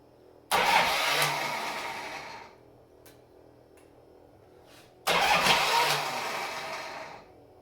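A Harley-Davidson Ironhead motorcycle engine fires up in two loud bursts of rough running and revving, each roaring for about two seconds before fading back to quiet.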